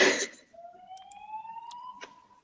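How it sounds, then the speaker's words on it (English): A single siren tone rising slowly in pitch, faint and distant, after a brief burst of noise at the start. "Oh, there's sirens outside my window."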